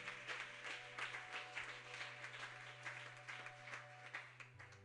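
A church congregation applauds in steady, rhythmic clapping that stays faint and distant, with a low continuous hum underneath and no talking.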